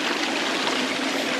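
A three-tiered waterfall among rice paddies in Hualien, Taiwan, gives a loud, steady rushing roar of falling water, close and unbroken throughout.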